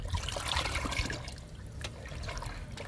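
Liquid is poured onto drooping potted plants, making a soft close trickle and splash that fades partway and then resumes faintly.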